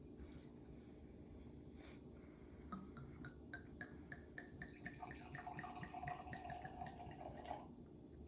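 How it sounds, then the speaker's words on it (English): Red Zinfandel wine, organically grown 2018 vintage, is poured heavily into a glass, making a faint trickling and dripping gurgle that rises over several seconds against a quiet room background. "another heavy pour by Kinsey"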